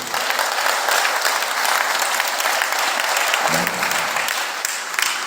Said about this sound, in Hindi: अच्छे से बजाओ, ताली बजाना है तो